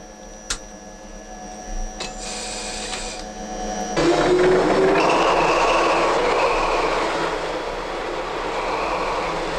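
A regularly maintained locomotive train runs steadily and loudly, with a rising rumble and rolling noise that swells after a quieter opening of hum and faint tones.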